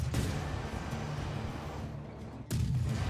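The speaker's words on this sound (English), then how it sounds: "So, the megaton cannons are only hitting our resources and nothing else." Megaton cannons fire in the TerraTech vehicle-building game, sending a few heavy booming blasts over a continuous low mechanical rumble, fairly quiet overall.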